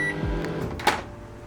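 Microwave oven melting butter in a measuring jug: a door clunk and button beep, then a low steady hum as it starts, heard close with no voices.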